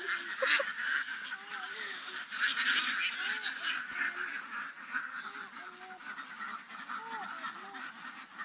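A large flock of about 1,500 domestic ducks (itik) quacking and honking continuously, a dense, steady chorus of many overlapping calls.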